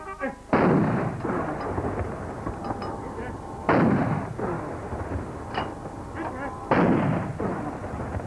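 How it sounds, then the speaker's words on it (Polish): A cannon salute: three heavy blasts boom at regular intervals, each followed by a rolling echo, with crowd noise murmuring between them. "zabrzmiała armatnia salwa. 26 razy."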